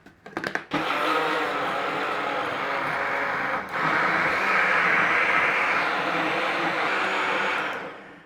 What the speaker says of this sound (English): We're coming on our blender.